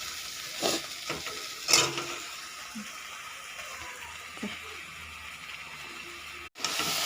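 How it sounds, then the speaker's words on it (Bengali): Meat fries with onion, ginger and garlic in a wok, giving a steady broad sizzle with a few louder stirring scrapes near the start, heard close up. "মাংসটা দিয়ে আমি পেঁয়াজ আদা রসুনের সাথে ভাজবো"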